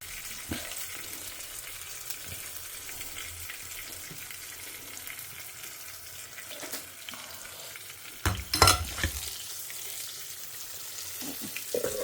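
Urad dal, green chili and tamarind fry in hot oil for coconut chutney, a soft steady sizzle at low level, broken near the end by a brief clatter of stirring.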